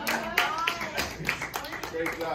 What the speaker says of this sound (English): Let's give a round of applause for Dakota